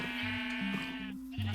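Sheep in the video game Minecraft bleat in several short, clear calls, one after another, loud and close with no talking over them.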